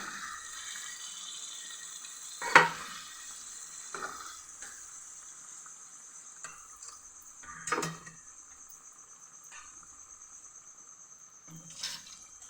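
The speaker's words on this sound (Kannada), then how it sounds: "ಈ ಹುಣಸೆ ರಸನ ಹಾಕೋತಾ ಇದ್ದೀನಿ" Tamarind juice goes into a hot pan for chilapi fish curry, bringing a constant high hiss of sizzling. Three louder bursts of pan clatter and stirring sound a few seconds apart, with no talking.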